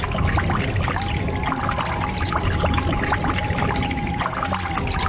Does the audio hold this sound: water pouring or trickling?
yes